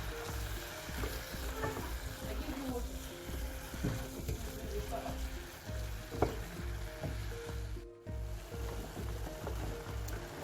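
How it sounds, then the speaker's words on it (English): Ground beef fries and browns in a pan with a steady close sizzle and crackle, scattered spatters and a few stirring scrapes, and no talk over it. "we have to fry it until it browns and breaks down a little more."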